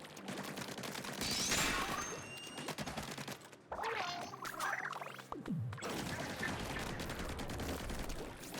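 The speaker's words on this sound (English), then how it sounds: "We're firing even faster now." Rapid weapon fire from Splatoon 3 runs in a steady stream of quick shots. There is a short break midway, then the fire resumes, fairly loud and close, with no talking.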